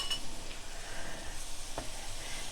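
A spoon stirs cornstarch into cooked cinnamon apples in a pan, giving a soft, close scraping and light clinking against the metal over a faint continuous bubbling sizzle, with no talking.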